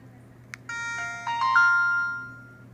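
An Alcatel OT-1042 phone plays its power-on tune after a short click, a few bright rising electronic chime notes ringing out clearly over a quiet background hum and fading away.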